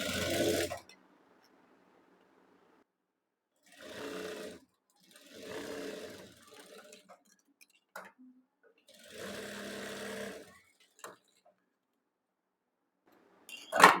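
A sewing machine runs in several short bursts while double-stitching the shoulder seam of a designer kurti, its whirring steady and close, separated by quiet pauses and a brief voice near the end.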